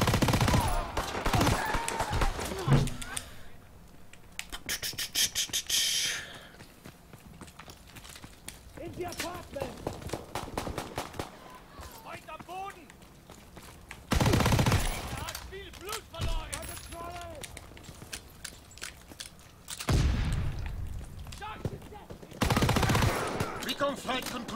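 Thompson submachine gun bursts in Call of Duty WW2, with several loud, rapid volleys separated by quieter gaps where a person talks and game voices play.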